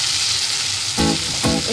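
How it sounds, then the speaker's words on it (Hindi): Pomfret fish frying in hot oil for a Bengali-style curry, a steady close sizzle with two brief louder bursts of crackling spatter partway through. "अब ये हमारा फिश फ्राई हो चुका है"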